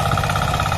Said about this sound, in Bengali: আপনি মিনি পাওয়ার টিলার দিয়ে আপনার জমির সমস্ত জায়গায় আপনি সুন্দরভাবে চাষ করে নিতে পারবেন